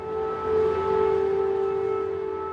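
Air raid sirens sound over a Ukrainian town, a sustained steady wail with a slight swell near the start, loud and continuous without speech.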